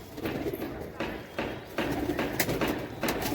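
Chitte Kasni breed pigeons flutter and coo close by, with bursts of wing noise and soft rustling recurring every half second or so while someone talks over them.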